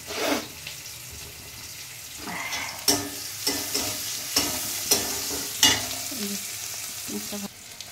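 Onions going into hot oil tempered with black cumin seeds, giving a steady close sizzle broken by sharp clanks and scrapes of stirring at an irregular pace, with a brief splash of water in the background.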